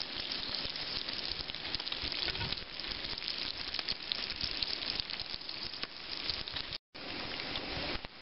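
Bacon frying in a pan, a dense, steady sizzle and crackle close by that runs on continuously with one brief dropout near the end, no talk over it.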